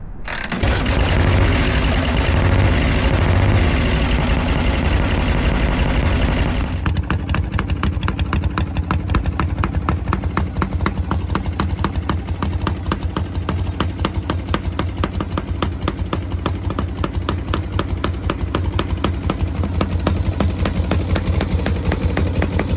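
A Harley-Davidson Knucklehead motorcycle engine idles loudly and steadily, with a fast, regular ticking pulse running through the exhaust note from exhaust that needs adjustment.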